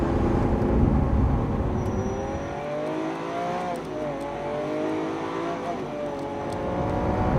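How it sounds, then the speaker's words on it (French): A Lamborghini Aventador SV with its rear-mounted 750-horsepower V12 revs hard, the loud engine note climbing, dipping and rising again over several seconds with a raspy, throaty whine. "On a un V12 à l'arrière, 50 chevaux de plus que l'Aventador classique, 750 au total."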